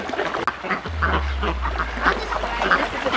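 A duck at an animal sanctuary: several short, nasal quacks scattered over a low steady hum, fairly close, with faint outdoor background noise.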